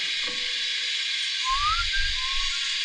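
A short, wavering whistled tune rises and dips over a steady loud hiss, with a low rumble joining partway through.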